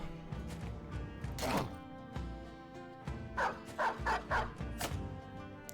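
A dog in the video game Battle Brothers barks in two bursts, one sharp bark early and then a rapid run of four or five yips, over a steady background of game music and ambience.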